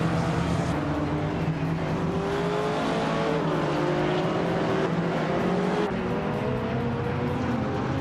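A 1983 Porsche 911 Turbo races with steady engine drone, rising and shifting revs and tire noise, loud and continuous throughout with no pauses.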